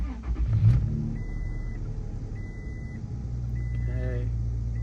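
A truck engine cranks and catches with a brief loud surge, then settles into a steady, close, low idling rumble.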